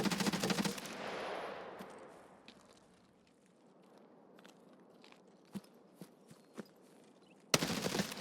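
Full-auto rifle fire in the game SPT Tarkov, a loud opening burst that fades into a quiet stretch broken by a few sharp distant shots, then another loud burst at the end.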